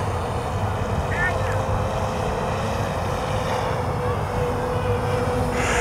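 A 3DR Solo quadcopter drone flies and slowly rotates, giving a loud, steady whirring propeller drone that holds unbroken throughout with only slight shifts in pitch.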